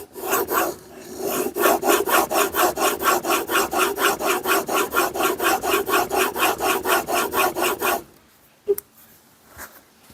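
A blade held in a Trend honing guide with a large wheel is stroked back and forth on a sharpening stone, giving a loud rhythmic rasping scrape repeated about twenty times, then stopping with a couple of light knocks.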